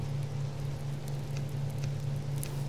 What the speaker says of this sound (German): Seht! Es regnet. Schon wieder.